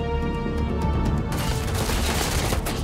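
Sustained gunfire and chaotic combat noise in the space shooter game Starfield, loud and dense throughout, intensifying into a heavier burst of fire partway through.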